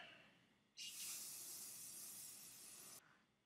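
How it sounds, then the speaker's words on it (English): A spray paint can fires one continuous hiss of about two seconds at a homemade wand, starting and stopping abruptly, close and loud against a quiet room. "But, grab my trusty spray paint."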